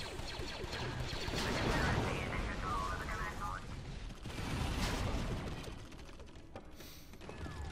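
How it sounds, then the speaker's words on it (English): A video game battle fills the scene with repeated booming explosions and rumbling blasts at varying distances, with a player's voice faintly heard among them. "There are so much explosions going on."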